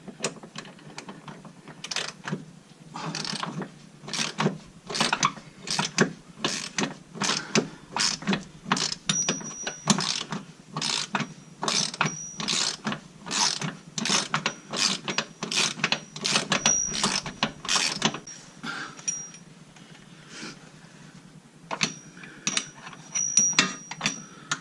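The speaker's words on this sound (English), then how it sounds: "Let's see if the ratchet will help at this point." A ratchet wrench cranks rock slider bolts on a Jeep Wrangler JL, producing long runs of rapid, evenly spaced metallic clicks, close up and alone, with a brief slowdown near the end.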